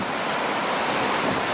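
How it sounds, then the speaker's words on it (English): Ocean surf crashing and splashing against rocks on a beach, a continuous loud broadband wash with wind noise buffeting the microphone throughout. "You can see how high the waves get from the splash here."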